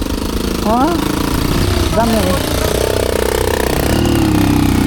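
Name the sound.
motorcycle engine running during a ride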